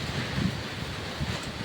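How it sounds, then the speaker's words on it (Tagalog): Strong typhoon wind buffeting the microphone in a steady rough roar, with gusty low rumbles and no voices. "Lakas ng hangin, grabe"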